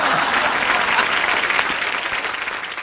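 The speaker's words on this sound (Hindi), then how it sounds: "इन फिरंगी लड़कियों के लिए जोरदार तालियां।" A studio audience at a Hindi comedy talk show applauds two foreign young women, producing loud, dense, continuous clapping that holds steady throughout and fades slightly toward the end.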